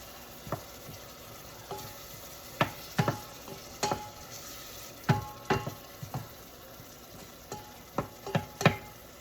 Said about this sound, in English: I'm going to add these chunks of beef short ribs to the pot